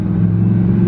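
A car driving, heard from inside the cabin as a steady, loud, low engine and road hum that holds even throughout, with no talking.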